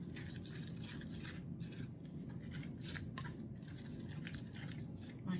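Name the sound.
stirring apple slices in a bowl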